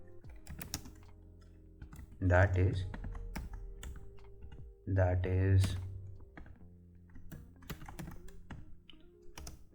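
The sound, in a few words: typing Java code on a computer keyboard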